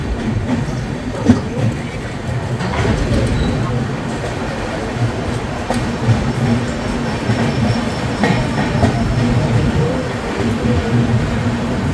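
The Padatik Express sits at Kishanganj station, a steady low rumble of the train and the platform, with faint scattered clanks and a voice talking over it.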